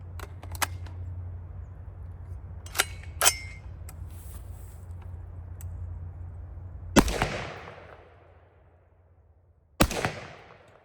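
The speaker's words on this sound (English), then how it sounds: "load another round, and fire again" A BCA 8.6 Blackout rifle fires a single round, a sharp loud report that rings out and decays, followed seconds later by a second shot, with a few small mechanical clicks of handling and a low steady hum beforehand.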